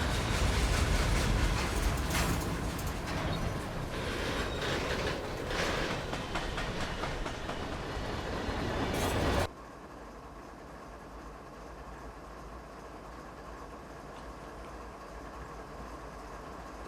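A Norfolk Southern coal train rumbles past in Train Simulator 2016, a loud, sustained clatter and roar for about nine seconds before cutting abruptly to a much quieter steady hum.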